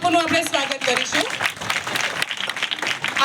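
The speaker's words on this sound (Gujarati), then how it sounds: "જોરદાર તાળીઓથી ફરી બાપુનું આપણે સ્વાગત કરીશું" Audience at an award ceremony giving a strong round of applause to welcome Morari Bapu, many hands clapping loudly and densely for a few seconds, with a voice speaking over the start.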